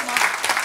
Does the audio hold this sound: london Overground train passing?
no